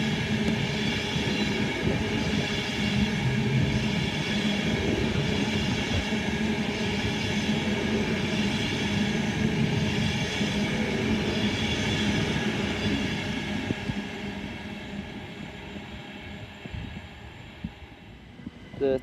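A Class 390 Pendolino train passes through Watford Junction station, a steady loud rumble of wheels and motors with rail hum that slowly fades toward the end.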